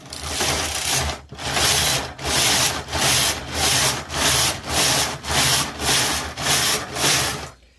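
A Toyota KS901 knitting machine carriage runs back and forth knitting tuck stitch, giving about ten regular rasping sweeps, each roughly 0.8 seconds long with a brief gap, loud and close with no talking.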